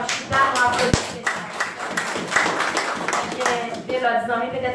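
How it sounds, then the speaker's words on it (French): A church congregation claps together in worship, a dense, steady patter of many hands, loud and close, with voices mixed in throughout. "Nous applaudissons."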